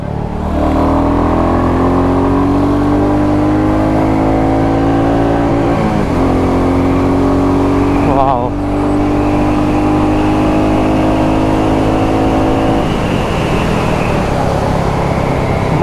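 Royal Enfield Classic 350 motorcycle being ridden with the rear brake applied, a loud steady engine drone whose pitch rises and dips as speed shifts, close and continuous with heavy wind noise.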